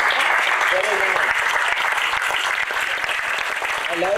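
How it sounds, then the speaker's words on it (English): Steady audience applause fills the whole stretch, many hands clapping at even loudness, with a few faint voices mixed in. "Yes, you have to clap because it's a good example."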